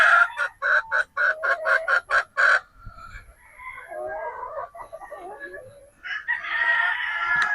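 Gamefowl pullets and roosters of a three-quarter Sweater, one-quarter Boston cross are heard in pens, with a burst of rapid clucking followed by softer murmuring clucks and then a loud, drawn-out crow close by.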